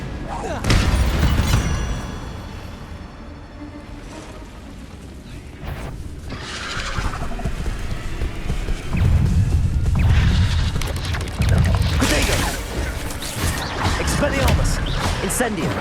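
Hogwarts Legacy spellcasting, with Incendio fire blasts and Expelliarmus disarming spells fired in quick succession: loud booms, crashes and whooshing bursts layered densely over one another, with voices amid the combat noise.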